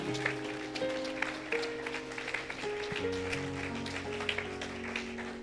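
Congregation at a church service applauding, a steady spread of clapping running the whole time beneath sustained organ or keyboard chords, moderately loud and continuous.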